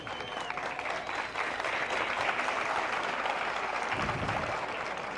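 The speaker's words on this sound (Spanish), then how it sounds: "el aplauso es para Cristo" Church audience breaks into steady, dense applause during a debate between a Protestant pastor and a Catholic priest, a sustained wash of clapping from a large room that carries on for several seconds.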